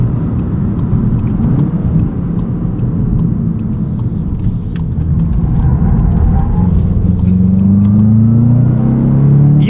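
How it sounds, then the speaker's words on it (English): A 2025 Volkswagen Jetta GLI with a manual gearbox rolls over a rough stretch of pavement, a steady loud road rumble and tire drone filling the cabin, with engine tone rising toward the end. "It's a pretty rough section of pavement."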